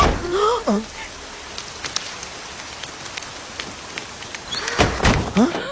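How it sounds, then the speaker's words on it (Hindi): A sudden downpour of rain in a comedy film scene patters steadily on a surface, with voices talking over it briefly at the start and again near the end. "ऐसे ही अचानक बारिश आ जाती है क्या?"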